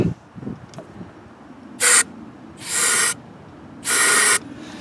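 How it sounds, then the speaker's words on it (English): Three short, loud hissing spray bursts of starting fluid go into the carburetor throat of a Bolens lawn mower at close range, separated by quiet pauses. "just a quick shot of this directly into the throat of the carburetor"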